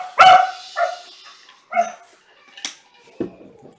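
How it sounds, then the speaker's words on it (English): A dog barks several times in short, sharp yips spaced irregularly, close by with no talking. "Kid crying, dog barking."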